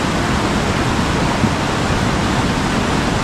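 Heavy rain pours down during a flood, driven by strong wind, a dense and steady roar that holds at an even loudness throughout.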